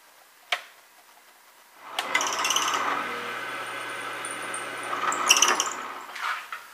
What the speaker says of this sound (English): we have a drill press here along with a clamp, and we're going to basically be drilling the holes